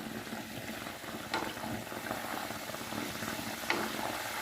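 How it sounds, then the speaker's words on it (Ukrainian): Steady crackling sizzle of trout frying in plenty of hot oil in a tall pot, continuous and close, with a couple of brief clinks partway through. "Рибку смажу в каструлі в високій."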